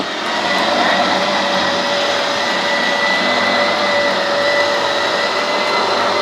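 An electric motor drives the kitchen slide-out on a 2020 RiverStone 39FK RV, producing a loud, steady, close whine with a faint tonal hum that holds unchanged from start to finish.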